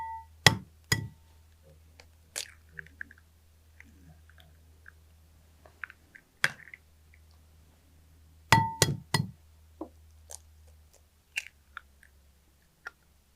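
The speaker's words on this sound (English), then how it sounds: "we crack our eggs" Eggs are cracked against a hard edge during a breakfast cook, a few sharp isolated taps and clinks separated by quiet pauses, close and fairly faint over a low hum.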